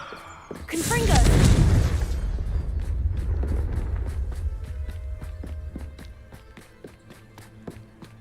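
A magical blasting spell in Hogwarts Legacy goes off with a loud, rumbling explosion that swells and slowly fades, followed by scattered light footsteps and taps.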